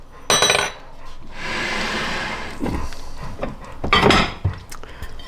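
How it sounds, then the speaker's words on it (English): A fork and spoon set down beside a crockpot of venison sirloin tip stew, giving sharp metallic clinks and clatters in a few separate bursts against softer kitchen rustling, close and fairly loud. "Put my fork and spoon down."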